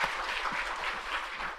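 Congregation in a church applauding together, a steady dense wash of many hands clapping at moderate level throughout, with no talk over it.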